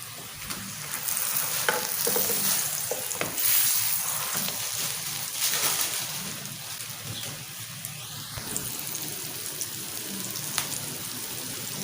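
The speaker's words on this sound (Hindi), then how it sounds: "हल्के हल्के आंच पे पकने दें तो ज़बरदस्त" An egg pizza paratha frying on a low flame gives a steady, soft sizzle with scattered small crackles and pops, heard close and alone without talk.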